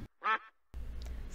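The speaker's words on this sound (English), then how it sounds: "Duck." One short, nasal duck quack sounds out clearly, followed by a brief silence and then a soft background hiss.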